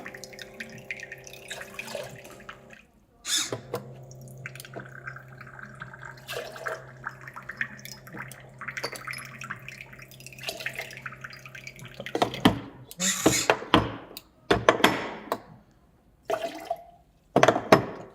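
Water runs steadily from a dispenser spout, then splashes and trickles in short bursts, close by, with a faint hum in the background.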